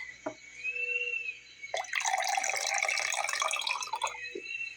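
Water pours from a canteen in a steady trickling splash lasting a couple of seconds, close and clear over a quiet, soft ambient background, with no one talking.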